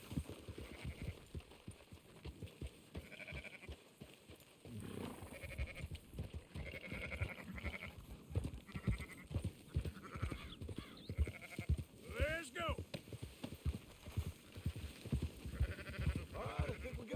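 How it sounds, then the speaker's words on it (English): Sheep bleat repeatedly in the Red Dead Redemption 2 video game during a herding task, with scattered calls at mid distance over steady ambient game sound and hoofbeats. "Marston, why don't you leave the sheep to me?"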